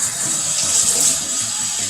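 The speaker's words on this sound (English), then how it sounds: "we're going to rinse this guy off in cold water." Cold water runs steadily from a tap as something is rinsed beneath it, a continuous close hiss and splash lasting the whole stretch with no voices.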